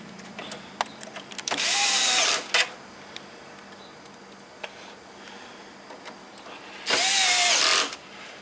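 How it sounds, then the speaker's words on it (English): Power screwdriver driving screws back into a desktop PC case: two short, loud whirring bursts a few seconds apart, each a bit over a second long, with small clicks and handling taps between them in a quiet room. "Then afterwards, screw your screws back in."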